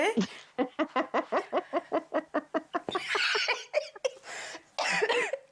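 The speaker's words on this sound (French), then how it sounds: "je tousse pour de vrai" A rapid series of about a dozen sharp, close coughs in steady rhythm, followed by louder, harsher coughing bursts with some breathy noise.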